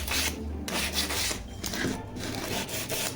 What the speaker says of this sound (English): A little sanding around the edges.